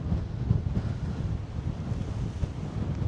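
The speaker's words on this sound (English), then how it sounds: "it is very cold and extremely windy." Strong wind sweeps across the Bealach na Bà mountain pass in the Scottish Highlands, facing toward the Isle of Skye, buffeting the microphone in a loud, steady, rumbling roar with no voices.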